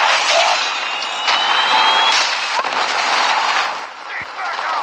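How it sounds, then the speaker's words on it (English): Gunfire and a missile strike in a Call of Duty video game battle: dense, loud, continuous game combat noise with sharp bursts and booms layered over one another, with no clear break. "Friendly predator missile inbound."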